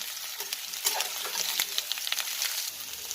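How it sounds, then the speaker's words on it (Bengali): Jackfruit frying in hot mustard oil for a vegetarian curry, a steady close crackling sizzle with brief pops and spits throughout, no voices. "তেলটা গরম হয়ে গেছে এখন তেলটা আমি একটু ভেজে নেব"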